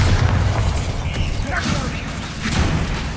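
The Bombarda exploding spell goes off in Hogwarts Legacy, a loud continuous booming blast with rumbling low end and scattered pops over dense game noise, with a voice shouting over it.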